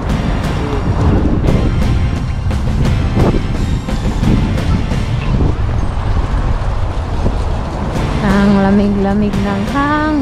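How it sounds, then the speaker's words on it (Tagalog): Cold wind buffets the microphone on a Paris street during a walking tour, a loud steady roar with gusts, mixed with passing traffic and a brief tonal whine near the end, and a voice speaks over it. "Lamig-lamig ng hangin."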